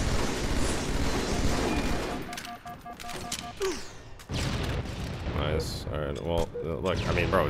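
Gunfire in a Halo match, dense bursts of shots and booms in rapid fusillades, loud and continuous, with a short quieter lull midway before the firing resumes.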